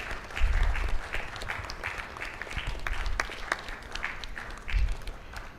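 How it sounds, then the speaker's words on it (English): Steady applause from a seated audience at a national health workshop, a continuous patter of many hands with a few heavier claps, moderately near. "Please, a big round of applause for our chair."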